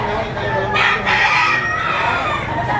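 At a busy poultry auction, bullstag roosters crow in loud overlapping calls, one rising strongly in the middle, over constant market noise and murmuring voices.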